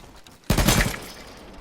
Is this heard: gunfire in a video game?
yes